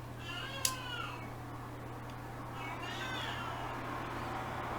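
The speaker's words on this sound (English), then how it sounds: "She's saying hello." A pet cat meows twice indoors, soft and fairly distant, with a short click in between, all over a steady low electrical hum.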